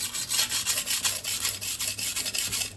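A kitchen knife of soft European steel is sharpened on a Gritomatic Sica stone, a close, loud rhythmic rasp of steel strokes across the stone, repeating about every quarter second.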